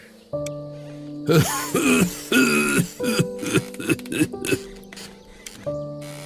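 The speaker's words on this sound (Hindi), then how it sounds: "आपको बहुत खांसी भी आ रही है" A few short throaty coughs and rasping bursts between sustained tonal music, fairly close and moderately loud, from an old man in a cartoon story.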